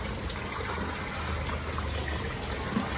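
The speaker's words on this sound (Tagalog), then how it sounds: "hayaan po natin tumutulo yung tubig para mahalo niya yung snap A sa tubig" Tap water gushes steadily from a faucet into a container being filled to 10 liters for a hydroponic nutrient mix, a continuous, close, fairly loud running stream with no talk.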